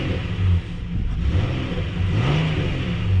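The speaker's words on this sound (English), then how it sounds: "as you can hear, there's that V6." A 2019 Nissan Frontier SV pickup's V6 engine revs up loudly and steadily, a close, continuous mid-pitched roar that rises and swells with no talking.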